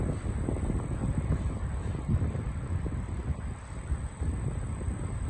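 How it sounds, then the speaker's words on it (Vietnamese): A single-phase electric fan runs from an inverter drive, producing a steady whooshing rush of moving air with a constant rumble and a thin high whine, loud and close throughout. "mình sẽ gắn một cái quạt gió nha các bạn. Nó cũng là động cơ một pha thôi."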